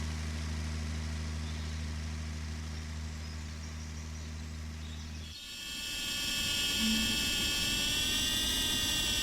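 A drone in the farming game Pure Farming 18 starts up, replacing a low engine hum with a high, whining, buzzing propeller drone that holds steady and fairly loud.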